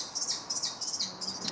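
Two kestrel chicks in a nest give a rapid run of thin, high chirping calls, steady and fairly close, with no talking.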